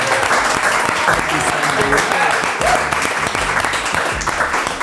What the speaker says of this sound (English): A round of applause, Sandi Toksvig, everybody.